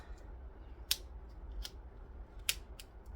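Scissors snipping scraps of HTV heat transfer vinyl, several sharp close cuts spaced irregularly over a quiet background, with no one speaking.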